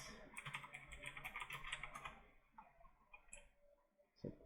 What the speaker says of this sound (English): You can type your message here and then press enter on your keyboard like that.